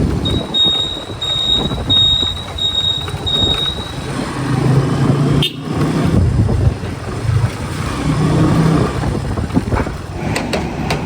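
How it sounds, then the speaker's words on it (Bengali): A motorcycle engine is started and then runs at a low, rumbling idle with uneven revving swells. It sounds close and fairly loud, with a high-pitched beeping tone early on and no talk. "স্টার্ট হয়ে গেছে"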